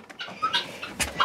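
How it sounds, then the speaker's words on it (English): Narragansett cross and Bourbon Red turkey hens giving a few short soft clucks and chirps close by, brief and fairly quiet. "So there's our two Royal Tom Narragansett Cross hens and our two Bourbon Red hens, Ruby and Rosie."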